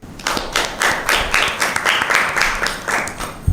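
Audience clapping at a school Bible quiz, steady and dense for several seconds with no talk, rewarding a quiz team for a correct answer.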